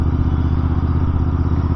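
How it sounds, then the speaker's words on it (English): A motorcycle engine drones loudly and steadily as the rider engine-brakes on a scenic road in Kerala, with a low, pulsing exhaust rumble and no talking. "It does a great job each time that I try to engine brake the motorcycle."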